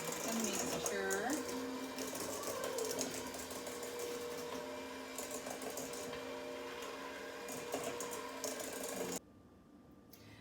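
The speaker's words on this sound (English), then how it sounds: "you continue whisking the cake, the mixture" An electric mixer whisking cake batter, a steady whirring motor hum with a pitch sweep early on that runs until cutting off near the end, with voices talking over it.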